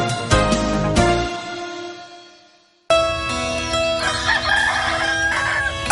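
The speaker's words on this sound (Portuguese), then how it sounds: "Acordar com os galos" A rooster crows loudly and close by, one long cock-a-doodle-doo that fades out, followed after a short silence by another bright crowing call with clucking fowl underneath.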